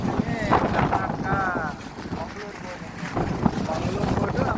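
Strong wind buffets the microphone around fishing boats at sea, a steady roaring rush with low rumble and water noise throughout, and brief faint voices in the background.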